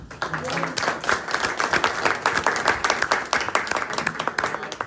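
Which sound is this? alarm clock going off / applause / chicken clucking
applause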